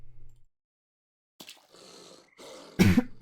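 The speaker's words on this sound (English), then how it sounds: "Pardon my cough." After a near-silent gap and some faint shuffling noise, a single harsh, loud cough bursts out close to the microphone at the end.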